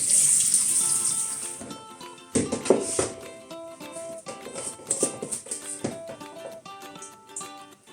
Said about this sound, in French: Bien rincer pour enlever le surplus de sel.